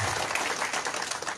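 A church congregation applauds in a brief burst of dense, even clapping, fairly close and steady with no talk over it.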